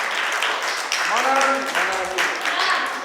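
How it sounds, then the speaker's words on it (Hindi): Audience applause and clapping for a performer at an event with orphaned children, steady crowd clapping throughout with people talking over it. "ताली बजाओ एक बार"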